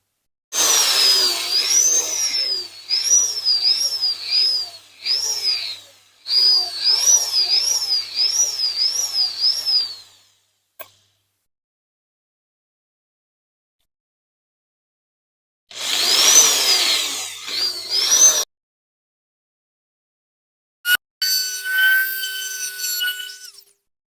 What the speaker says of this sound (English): Obviously I'm using a plug-in drill, not a battery powered drill.